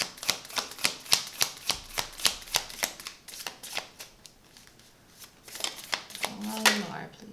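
Tarot cards shuffled in a steady rhythm of crisp riffling bursts, close and fairly loud, pausing midway before resuming, with a brief voice near the end.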